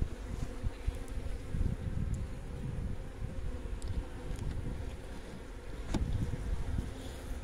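Honey bees buzzing around an open hive during an inspection: a dense, continuous drone of many wings close by, with occasional louder passes and light wind noise.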